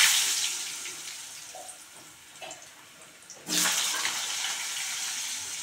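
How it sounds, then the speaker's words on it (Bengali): Potatoes tipped into hot oil seasoned with cumin seeds and bay leaves for an egg and cabbage dish, a steady hiss that suddenly swells into louder, broad sizzling midway and keeps going. "এবার আলুগুলো দিয়ে দিচ্ছি"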